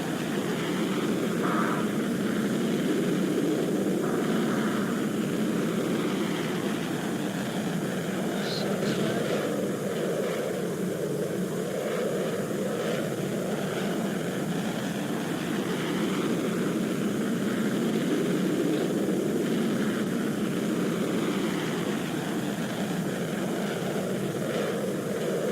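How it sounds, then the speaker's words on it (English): An airplane engine drones constantly in flight, a dense steady roar heard from inside the aircraft that holds evenly throughout with only slight swells. "How fast can this plane go?"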